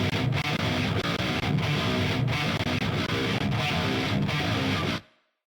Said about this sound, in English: I'm controlling the excessive energy that has been created by the palm mutes. And to demonstrate what it does, I'm gonna play you the guitars right now.